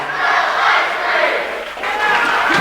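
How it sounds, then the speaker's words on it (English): Loud, sustained roar of a crowd at a women's college basketball conference tournament game, swelling and yelling continuously through a free throw, with a brief dip before rising again. "They're going to make as much noise as possible here."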